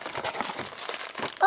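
Plastic packaging of Lego Marvel Superheroes Mighty Micros sets crinkles as it is opened by hand, a close, scratchy rustle heard under people talking throughout.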